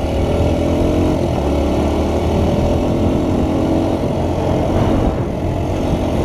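A trail motorbike engine hums steadily as it rides around a neighborhood to warm up, a continuous low drone at a constant moderate pace, close and loud, with no voices.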